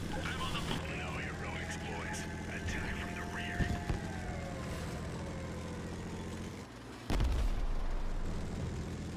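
Vehicle combat in the game Crossout, with a couple of heavy blasts or shots breaking through a steady mechanical drone and background noise, the loudest burst landing near the end.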